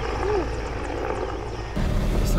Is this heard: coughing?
no